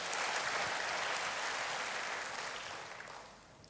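A church congregation claps together during a sermon, a dense, sustained round of applause that gradually fades over the final second.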